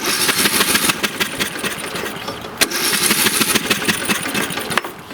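An engine with its spark plug removed and a rag stuffed in the plug hole cranks over with a rapid, loud, rhythmic churning and chugging that runs steadily for about five seconds, close by with no talking.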